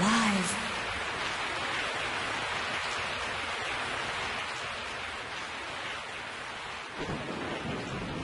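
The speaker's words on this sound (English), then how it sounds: "I woke up to the sound of falling rain." Heavy rain falling steadily in the Resident Evil 3 video game, a dense continuous hiss with low thunder rumbling beneath and a brief swell near the end.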